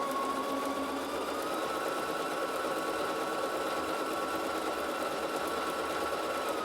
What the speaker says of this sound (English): Now it's going to start sewing.